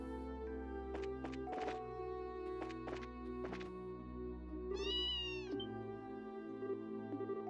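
Cat in Trails in the Sky SC gives a single drawn-out, wavering meow midway through, clear above soft game music and scattered clicking footstep sounds.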